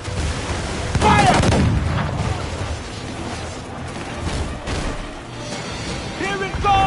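Ship cannon fire in an Assassin's Creed IV: Black Flag naval battle, a series of booming blasts and crashes over constant battle noise, with crew voices shouting in the mix.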